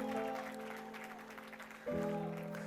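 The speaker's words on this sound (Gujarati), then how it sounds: "જરા તાળીઓ જોરદાર આપો." Audience applause at a 25th wedding anniversary celebration, a steady wash of clapping that swells louder near the end, fairly faint with a sustained musical tone underneath.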